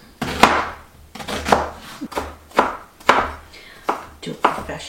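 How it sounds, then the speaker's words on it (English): Half of a small onion is diced with a knife on a cutting board, sharp chopping strokes coming in quick bursts of several cuts separated by short pauses, close and clear. "Next thing we need to do is dice up this onion a little bit, like half an onion."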